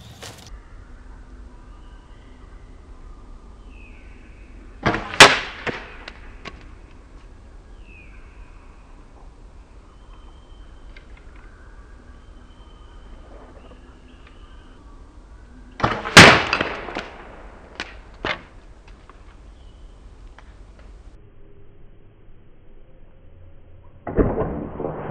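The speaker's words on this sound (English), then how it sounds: "I'm probably just going to shoot the CD." Arrows shot from a bow strike a CD outdoors, giving three sharp, separate impacts spaced several seconds apart, each a short snap with a little rattle, amid quiet ambience.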